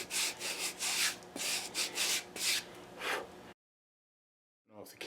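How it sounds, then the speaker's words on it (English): A crepe cleaning block rubs across 120 grit sandpaper in quick scrubbing strokes, close and moderately loud, before the sound abruptly cuts to silence and a brief rustle resumes at the end. "This is my 120 grit, and again, I'm just refreshing it with this crepe block."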